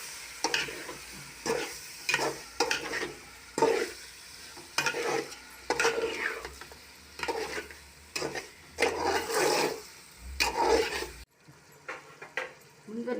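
A gar fish curry mixture gets stirred in a pan in rhythmic, scraping bursts over a bubbling sizzle, then the stirring stops abruptly and the pan goes quiet.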